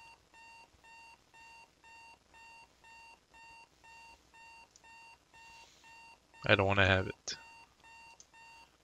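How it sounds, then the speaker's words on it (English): A video-game alarm clock rings in a steady repeating pattern of short beeping bursts, then a voice briefly speaks over it near the end. "Alarm clock."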